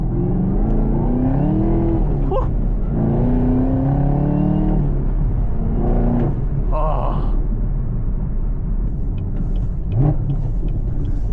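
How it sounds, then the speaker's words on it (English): A 2022 Camaro ZL1's stock exhaust rumbles deep and steady, rising and falling in pitch through several revs and shifts, with a few short exclamations from inside. "And again, this exhaust is stock."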